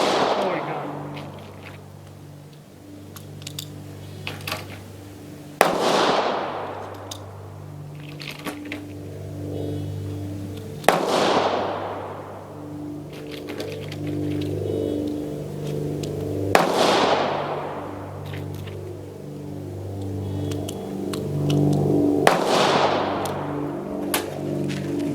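Five sharp reports from an American Firearms Mfg Co .25 ACP pistol ring out at roughly five-second intervals, each one loud and close and trailing off into a short decay over a steady background hum.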